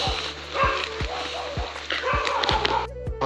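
A dog barks repeatedly in a steady rhythm at a rural village farm beside a tomato garden, the short barks fairly close and clear over light background noise.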